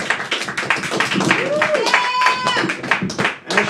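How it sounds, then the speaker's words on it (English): Applause and cheering from a comedy club audience welcoming a comedian, with dense clapping, whoops and a whistle, mixed with crowd voices throughout. "Clap it up for David Colombo."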